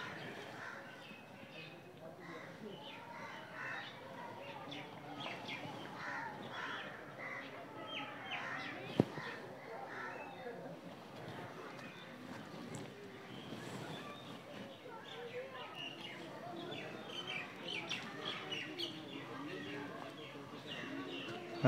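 Birds in the bird section of Chhatbir Zoo, Chandigarh, give scattered crow-like caws and other calls at moderate distance, under people talking nearby.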